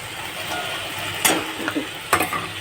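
Small mourola fish go into a hot pan with oil and are stirred, giving a steady sizzle with a few sharp scraping and clattering strokes of a spatula, close by and without talk.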